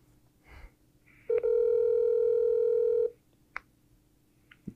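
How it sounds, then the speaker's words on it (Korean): A steady telephone dial tone sounds for roughly two seconds while a call is placed, preceded by a short click and followed by faint clicks in an otherwise quiet line. "자, 전화해 보겠습니다."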